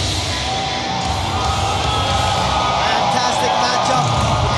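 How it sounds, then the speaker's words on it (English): A Thai crowd cheering and yelling at a One Championship fight, a steady roar of many voices with a commentator talking over it. "You hear the Thai crowd here just showing the boy some love."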